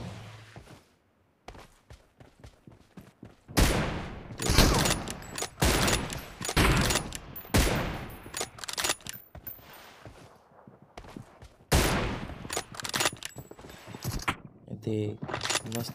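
Gunfire from an M24 sniper rifle in the mobile shooter BGMI during a 1v1 team deathmatch, sharp loud cracks scattered among footsteps and game noise, with a voice talking over them.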